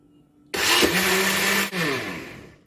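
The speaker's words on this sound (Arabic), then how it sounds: "هضرب مكونات الخلاط كويس قوي." An electric blender mixing chocolate cake ingredients whirs to life abruptly, running loud and steady with a brief dip midway before winding down, no talking.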